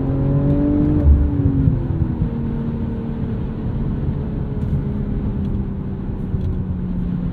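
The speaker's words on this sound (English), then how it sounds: "B58. The popping noise," A 2023 BMW M340i with the B58 engine drones steadily under load during a drive through the Coachella Valley, with a rising rev early on; no distinct exhaust pops stand out.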